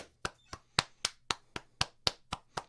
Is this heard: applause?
yes